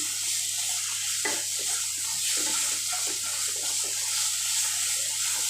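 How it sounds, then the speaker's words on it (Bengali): Water pours steadily into a pot of katla fish head curry, a soft continuous splashing and trickling rush at close range, with no talking. "আর একটু সামান্য জল দেবো"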